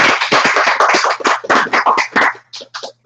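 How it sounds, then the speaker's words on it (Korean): A small audience at a social healing cafe claps to welcome a guest presenter, with sharp, distinct handclaps close by that thin out into a few last scattered claps. "우리 김성경 대표님 큰 박수로 맞이하겠습니다"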